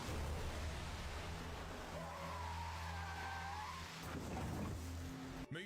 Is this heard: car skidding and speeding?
yes